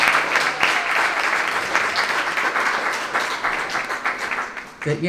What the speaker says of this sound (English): let's have a round of applause again for the professors, the staff, the students, the family members